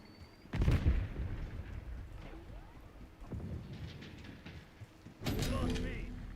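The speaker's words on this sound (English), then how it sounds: "Throwing Semtex." A Semtex sticky grenade thrown and detonating in the game Call of Duty Black Ops 6, heard as heavy booming blasts with rumbling gunfire and battle noise under faint voices.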